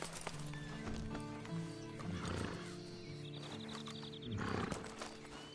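A horse in the video game Red Dead Online whinnies twice over a low hum, with hooves clopping in between.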